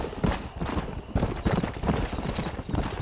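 Horse hooves clip-clopping in a steady repeated rhythm with a brief whinny, close and loud, from a horse ridden in the video game Red Dead Redemption 2 on PlayStation 3.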